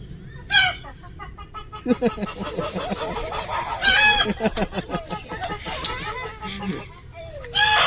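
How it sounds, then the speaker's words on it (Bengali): Chickens cluck repeatedly at close range, with a rooster crowing among them and a voice mixed in. "মুরগি"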